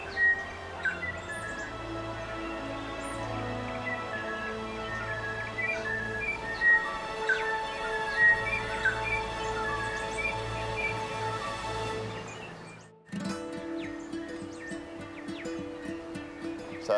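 Wild birds in regenerating bush on a New Zealand island sing continuously in a dense, melodious chorus of bell-like, silvery calls, with a brief near-silent gap before the song resumes.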